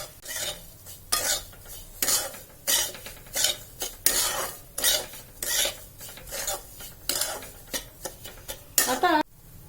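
Semolina and coconut mixture is stirred and roasted in a pan over low heat, with a repeated rhythmic scraping of the spoon against the pan, close and fairly loud, in regular strokes about every half second.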